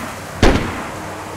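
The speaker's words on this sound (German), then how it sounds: "Neuer Schuss, neuer Schuss." A single distant gunshot in a video game cracks once, short and dull, over a steady low background hiss.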